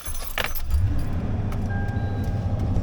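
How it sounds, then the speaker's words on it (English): Keys jangle briefly, then a truck engine cranks and catches, settling into a steady low idle rumble close by. "turn the truck on here quick."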